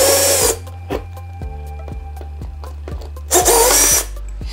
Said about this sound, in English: drill, and we're just gonna drill the holes here.